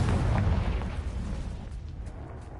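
A Confringo fire spell in Hogwarts Legacy lands as a heavy booming explosion, a loud rumbling blast that fades away over a couple of seconds.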